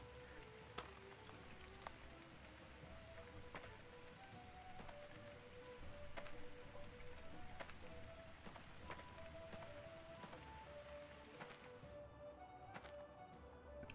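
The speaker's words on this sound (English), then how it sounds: "The rain doesn't penetrate the houses." Rain falls outside houses in the Life is Feudal video game, a steady soft patter of drops with scattered louder taps, continuous and fairly faint with no talk.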